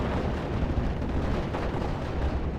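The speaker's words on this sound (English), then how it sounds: "My mortar here still engaging the opponents as they approach" Mortar fire in the WWII strategy game Steel Division: Normandy 44, set at Pointe du Hoc, heard as a dense, continuous low rumble of distant blasts and battle noise with no clear separate shots.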